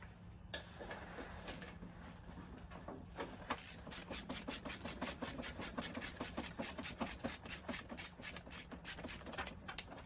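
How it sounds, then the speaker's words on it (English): Ratchet clicking rapidly and rhythmically while loosening the four cylinder jug bolts on a Polaris 400 engine during teardown, with a few scattered clanks first and then a long steady run of close, crisp clicks. "So let me get those 4 bolts off."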